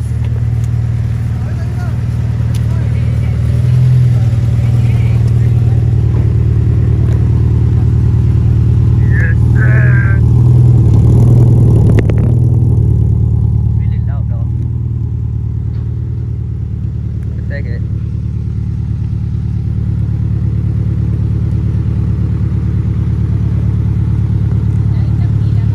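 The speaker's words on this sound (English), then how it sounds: "You can hear the exhaust." A Honda FD car's exhaust drones with a low, steady engine note that swells into a revving rise near the middle before settling back to an idle rumble.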